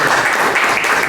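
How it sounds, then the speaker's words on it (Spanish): A forum audience breaks into applause for a university lecturer being introduced, a short burst of loud, dense clapping in the room. "Aplausos para él."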